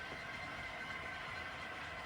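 Model railroad SD60M mid-train helper locomotives running on the Raton Sub, a steady quiet rumble and hum without clear individual beats, with no talk.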